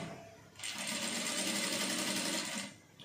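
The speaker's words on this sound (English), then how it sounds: "the first thing I'm going to do now is to sew the seam allowance from here down to this point" A sewing machine stitches the side seam for a hidden pocket, running in one steady, close whirring burst of about two seconds with quieter handling noise before and after.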